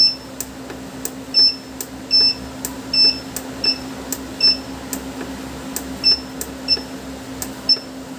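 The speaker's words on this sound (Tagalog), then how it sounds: "To save the settings, hold function key hanggang mag-beep ulit." High electronic beeps from a pure sine wave solar inverter saving settings repeat at a steady pace, about one every half second, over a constant low hum; short, bright and fairly loud.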